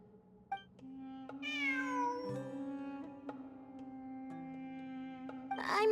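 A cat meows repeatedly in the video game Genshin Impact. The meows are drawn-out, rising and falling, and sound over soft sustained tones of background music. A louder, harsher cry comes near the end, and no one speaks.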